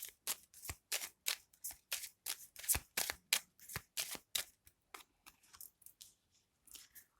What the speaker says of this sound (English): Your cards are flipping all over the place.